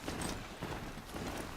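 A horse's hooves clip-clop in the video game Horizon Zero Dawn, a short run of even rhythmic footfalls at moderate volume with no talking.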